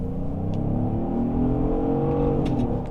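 A 2026 Genesis GV70 Sport accelerating hard, its engine note rising in a loud, sustained steady pull heard from inside the cabin, with no voices over it.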